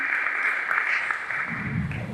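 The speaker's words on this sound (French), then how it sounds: "Sous vos applaudissements." An audience applauding at a ministry school graduation ceremony produces a faint, steady patter of clapping that stays soft and distant throughout.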